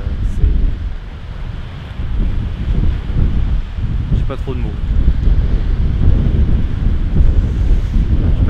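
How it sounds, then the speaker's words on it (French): Strong outdoor wind buffeting the microphone, loud low rumbling gusts that swell and ease continuously, with someone speaking briefly partway through. "Le vent aussi, ça fait partie des choses qui sont extrêmement chiantes pour un vidéaste pour le coup."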